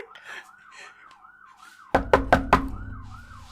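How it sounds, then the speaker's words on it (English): An ambulance siren wails outside in a rising and falling cycle, heard muffled and at a distance from indoors. Partway through, several loud, sharp knocks land in quick succession over it. "Is that cops or ambulance? Sounds more like ambulance."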